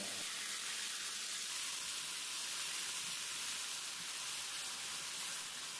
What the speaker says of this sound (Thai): ผัดไปสักครู่จนเห็ดหอมเริ่มเปลี่ยนสีก็เติมน้ำปรุงรสที่เตรียมไว้ครับ